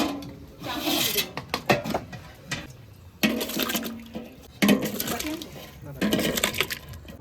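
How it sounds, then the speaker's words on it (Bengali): Rice grains pour into a pot of hot water in a home kitchen, giving several rushing, splashing bursts with brief pauses between them, close and fairly loud, while a voice speaks at times. "জল গরম হয়ে গেছে, এবার আমি চালটা দিয়ে দেবো।"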